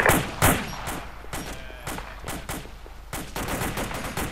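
Gunfire in an Arma ShackTac operation: sharp shots crack out repeatedly in irregular volleys, some loud and near, others softer and more distant, with no talking.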